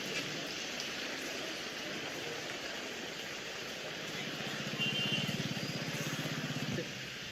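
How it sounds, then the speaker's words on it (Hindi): Steady, dense heavy rain hiss fills the whole stretch on a road ride to Nashik on a Yamaha R15 V3 motorcycle, with a low rumbling engine-like drone rising briefly near the end. "कंटिन्यूस बारिश हो रही है अभी।"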